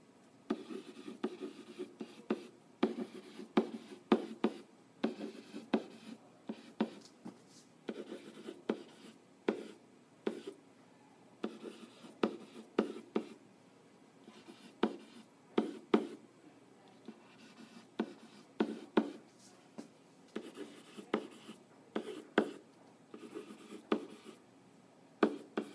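Pen or pencil scratches steadily across paper while a genetics Punnett square problem is written out by hand, close and quiet, in irregular bursts of strokes and taps with short pauses, no talking.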